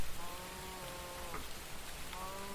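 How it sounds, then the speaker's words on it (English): Steady rain in Minecraft Beta 1.7.3, a soft continuous hiss of falling drops filling the background, with faint tonal game sounds layered over it. "Got the rain in the background if you guys can hear it."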